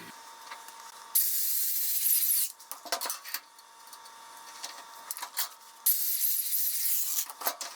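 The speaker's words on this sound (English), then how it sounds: "So let's get that rod coupling all ground down and clean because it might have some zinc coating on it." A tool grinds down a steel rod coupling that may carry zinc coating, during air compressor welding modifications, in two short bursts of harsh, hissing abrasion separated by quieter scraping and handling noises, moderately faint.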